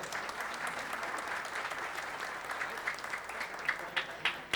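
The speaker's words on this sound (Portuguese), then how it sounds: "Palmas também" Steady applause from the audience at a formal medal ceremony, a dense continuous patter of many hands held at a constant level, with a few sharper claps near the end.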